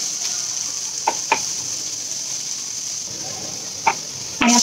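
Chopped onion roasts in a pan for Kokan-style sukha chicken, giving a steady, even sizzling hiss throughout, with a few soft clicks of stirring and a louder scrape near the end.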